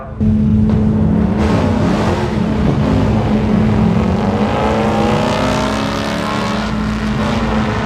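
A turbocharged V6 Buick Grand National making a drag strip pass, its engine roaring loud and steady from launch, with a sustained strained drone and rising pitch through the run.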